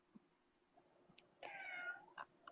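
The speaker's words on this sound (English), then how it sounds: "And my kitty is meowing." A house cat meows faintly indoors, with a few short chirps and then one longer drawn-out meow, quiet against near silence.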